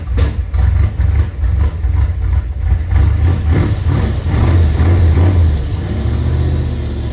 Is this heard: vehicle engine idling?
yes